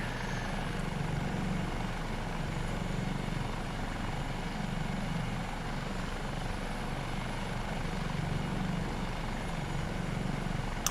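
An HH-65A Dolphin (AS365N2 Dauphin) helicopter in Microsoft Flight Simulator 2024 gives a steady, even rotor and turbine drone that stays constant throughout with no talk.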